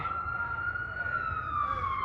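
An ambulance siren wails steadily in New York City over low traffic rumble, its pitch drifting downward toward the end as the vehicle moves past.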